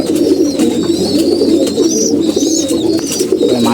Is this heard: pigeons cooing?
yes